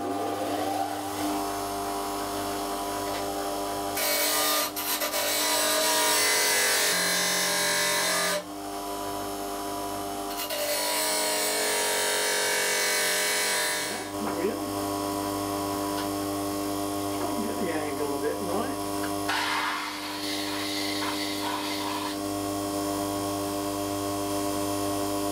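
A Parkside bench grinder sharpens an old chisel. Its motor gives a steady electric hum throughout, with loud, harsh grinding bursts as the blade meets the wheel at intervals.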